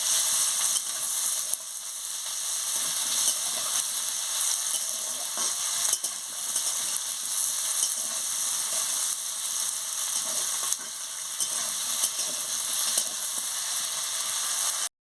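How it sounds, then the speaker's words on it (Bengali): Potatoes frying in a pan for a ridge gourd, cucumber and potato chorchori, giving a steady, dense hiss of oil that stays even and close throughout with no voices. "আলুটাকে ভালো করে ভেজে নিচ্ছি"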